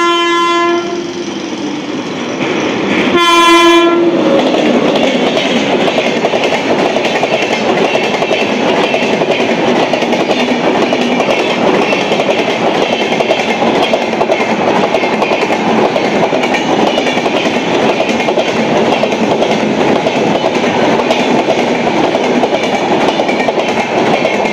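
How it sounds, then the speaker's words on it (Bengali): An Ajmer–Sealdah Superfast Express thunders past Baranagar station after a short horn blast, its steady rolling roar and wheel clatter loud and close throughout. "এই চলে গেল, এটা আজমের শিয়ালদা সুপারফাস্ট এক্সপ্রেস"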